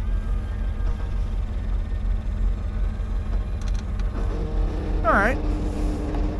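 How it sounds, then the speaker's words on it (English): The hydraulic convertible roof of a 1996 Chevrolet Camaro Z28 Anniversary edition rises in 8-degree cold, a low motor hum droning steadily with a brief whine near the end as someone speaks briefly. "The convertible roof is in great shape too. Let's go ahead and put that up, show that it works."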